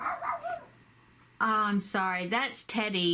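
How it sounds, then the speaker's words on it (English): A dog barks outside in a backyard, several sharp barks and yips in quick succession, close and loud after a quieter stretch, with a person speaking briefly just before. "he's outside my window here barking out in the backyard"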